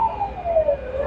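Ambulance siren wailing on a small island street at Cheung Chau, Hong Kong, a steady rising-and-falling tone at moderate distance over faint road noise.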